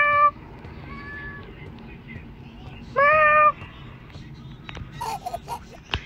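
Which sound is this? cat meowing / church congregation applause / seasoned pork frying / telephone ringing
cat meowing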